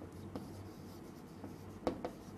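Chalk or marker writing on a board during a biology lecture: a few faint, brief scratchy strokes, with the clearest marks near the end, over quiet room tone and no speech.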